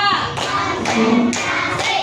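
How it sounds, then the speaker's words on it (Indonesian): Children in a classroom clap together in several loud, close claps spaced roughly half a second apart, with faint voices between them. "Coba tepuk 1, tepuk 2, tepuk 3, tepuk 4,"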